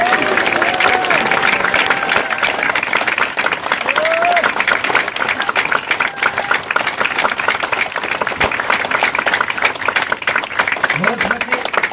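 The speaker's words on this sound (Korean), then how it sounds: "우리 모두를 위해서 박수 한번 할까요?" Audience clapping together at a campaign team's disbanding event after an election, loud, close, sustained applause with a few voices rising briefly over it.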